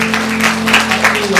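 A church congregation claps during a Sunday worship service, loud uneven bursts of applause over a sustained musical tone.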